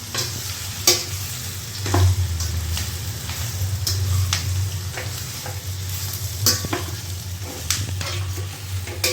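Sesame and mustard seeds sizzle loudly in hot oil while a spoon stirs them, scraping the pan again and again with sharp metallic knocks over a continuous frying hiss.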